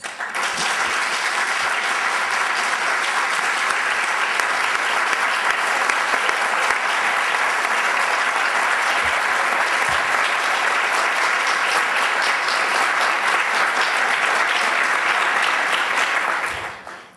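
A large audience applauds to welcome Michelle Bachelet, former president of Chile, at a formal conversation event, with loud, sustained clapping that carries on evenly for many seconds before cutting off.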